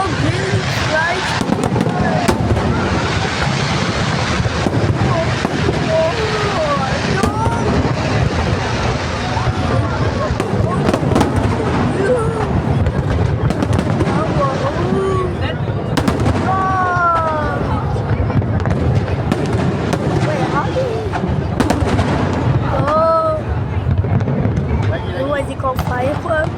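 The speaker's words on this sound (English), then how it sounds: "What is it called? Firework?" Fireworks bursting all around in a dense, continuous barrage of pops, crackles and booms, with whistling rockets rising now and then, while people nearby talk and exclaim throughout.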